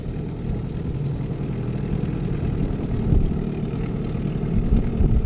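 A 1950s Evinrude outboard engine running slowly while crossing the water, a steady low droning chug that holds throughout, loud and close with no talk.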